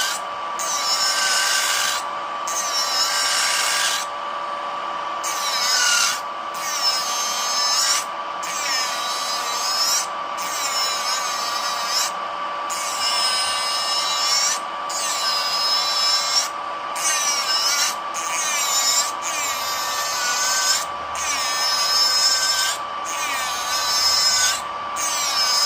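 A Melodysusie Atena cordless electric nail file runs with a steady high-pitched motor whine while it files acrylic nails in repeated rasping strokes with short pauses between them. No one speaks.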